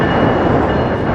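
A CSX diesel freight train hauling a single side-load ballast dump car rolls past close by, a loud steady broadband rumble and rush filling the whole moment with no talk.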